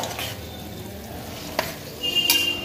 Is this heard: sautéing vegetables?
yes